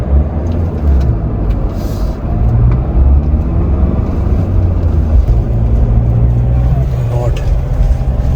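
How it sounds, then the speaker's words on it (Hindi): Diesel Mahindra Thar engine labouring up a steep mountain climb in Ladakh, a heavy low rumble that drones throughout while people talk over it. "डीजल थार भी अगर तुम चढ़ाई से स्टार्ट करो तो स्ट्रगल कर रही"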